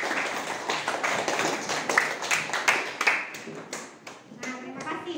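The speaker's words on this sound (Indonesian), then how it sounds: "Ya, beri tepuk tangan." Students in a classroom clap for a group, a brief burst of close, uneven handclaps that thins out and fades within a few seconds.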